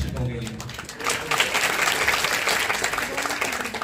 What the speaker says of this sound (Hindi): एक बार जोरदार तालियां होनी चाहिए हमारे इस मौके सभी शिक्षकों के लिए।